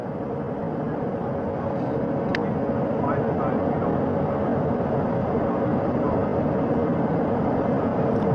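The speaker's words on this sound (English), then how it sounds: "That helicopter will now hover just a distance away" A helicopter hovers over the ocean during the Artemis II astronaut recovery, hoisting crew from the capsule. Its rotor and engine make a loud, steady drone with a constant hum that fills the whole stretch.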